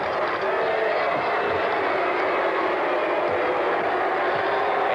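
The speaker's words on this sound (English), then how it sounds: "Adel crowd giving it the Bronx cheer," A basketball crowd at the 1974 girls' state championship game, with Adel fans giving a steady, dense Bronx cheer that fills the arena continuously and loudly throughout, with no distinct breaks.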